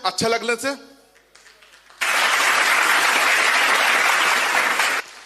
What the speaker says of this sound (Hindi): अच्छा लगने से सभी को ताली देना है।